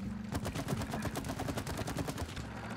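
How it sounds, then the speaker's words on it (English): Rapid bursts of gunfire from shooting in the video game It Takes Two crackle in a fast, steady rhythm, loud and continuous throughout with a low hum beneath. "No, you gotta shoot another one."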